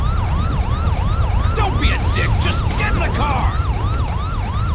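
Police car siren in the police mod LSPDFR for GTA V, a rapid rising-and-falling wail repeating evenly and loud over engine rumble, while someone shouts angrily partway through.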